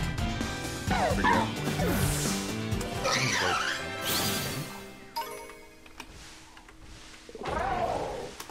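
A rock dog Pokémon cries in Pokémon Scarlet, with a burst of yelping, barking game sounds and crashing effects, loud in waves with brief quieter gaps before a final cry.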